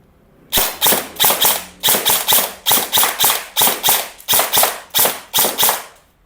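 An E&C 854 airsoft rifle fires about fourteen sharp semi-auto shots in a quick, even rhythm. The cracks are loud and close, with no voices.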